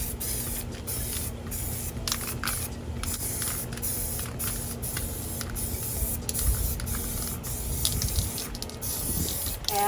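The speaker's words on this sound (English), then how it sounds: "So we're gonna spray it there." An aerosol spray can hisses onto a mirror in a series of short bursts of varying length, close by and fairly quiet, with no talking.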